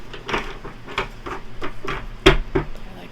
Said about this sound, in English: Get these shuffled really good.